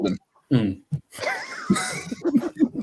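Someone gives a raspy, wheezing cough close up, surrounded by bits of talk.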